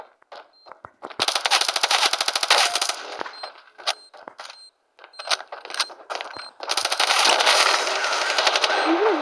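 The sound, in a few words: machine gun fire in a video game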